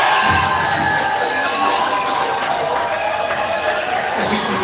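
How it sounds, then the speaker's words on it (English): A large audience at a Lagos startup event cheers and shouts steadily, a dense, loud crowd roar with voices mixed in throughout. "All right, round of applause for me."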